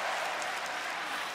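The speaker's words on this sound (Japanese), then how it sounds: "お客さんも分かっているぞ、早くも手拍子だ" An audience claps along in rhythm at a women's wrestling match: steady, fairly faint crowd clapping with no voices on top.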